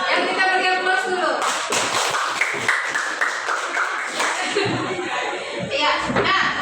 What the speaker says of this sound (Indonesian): Yang kita beri aplaus dulu.